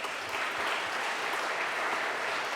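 A warm round of audience applause at a 30th anniversary celebration, steady dense clapping from a seated crowd, moderately distant and sustained evenly without speech.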